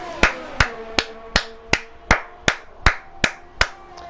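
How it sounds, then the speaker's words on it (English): Ten sharp, evenly spaced claps ring out alone at a steady rhythm, each crisp and close. "Round of applause."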